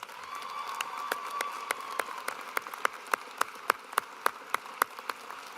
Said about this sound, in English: Ladies and gentlemen, please, a round of applause for Mrs. Hofer and the GLK UAIS band.